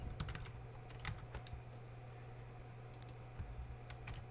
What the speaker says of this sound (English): We type it in